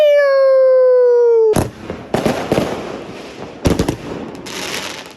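Fireworks crackle and burst in several loud volleys after a descending whistle-like tone, with noisy popping bursts spread over a few seconds.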